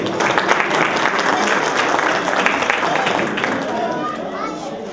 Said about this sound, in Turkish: Sayın Abdullah Paşa'yı alkışlarınızla buraya davet etmek istiyorum.